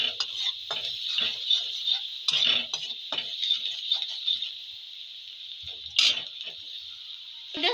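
A utensil stirs onions frying with turmeric in a pan, scraping and clinking in short irregular bursts against a steady high sizzle. The sound is close, with no one talking.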